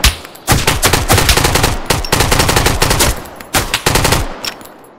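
Rapid bursts of AKS rifle fire in the survival shooter Road to Vostok, loud sharp shots in several volleys with short gaps between them, and no voices.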